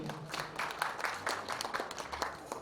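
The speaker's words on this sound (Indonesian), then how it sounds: "beri tepuk tangan buat Pak Rusdi" Soft, steady applause from an audience at the public soft launch of the i-Bot PRO, sounding somewhat distant and filling the whole moment without any talk.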